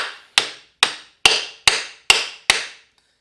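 The back of a socket strikes a nut on a CR125 motorcycle during engine work, giving seven sharp metallic taps at a steady pace of roughly one every half second, close to the microphone, each ringing briefly.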